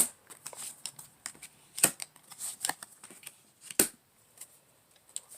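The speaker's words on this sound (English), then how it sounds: "I just want to pull a couple more cards" Tarot cards shuffled and drawn from a deck, giving a run of soft papery flicks and riffles with two sharper snaps, close and fairly quiet, with no talking.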